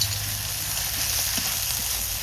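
Ground cumin and coriander paste fries in a pan of oil with ginger-garlic paste for a goat head curry, giving a steady, close, dense sizzle that holds level throughout with no talking.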